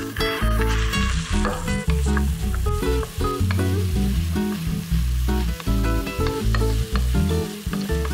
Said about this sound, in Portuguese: A gente vai dar uma refogada na cebola com o alho poró.